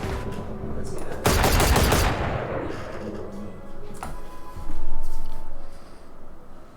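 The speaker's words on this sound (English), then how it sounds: "The late horizontal recoil catching Clammy there" Gunfire in the video game Valorant during a tournament match, a loud burst of rapid shots that decays into a ringing tail, with a second sharp hit later, under an energetic caster's commentary.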